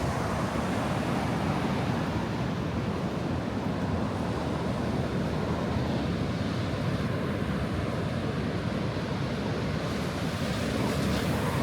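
Ocean surf rushes continuously while wind buffets the microphone, a loud, steady roar with no clear break.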